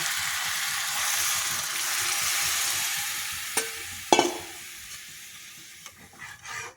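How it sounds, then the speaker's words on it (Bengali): Hot water poured into chicken curry frying in a pan, setting off a sudden loud hiss and burst of sizzling over the steady background sizzle, followed by a few stirring knocks. "এবার এতে একটু গরম জল দেবো"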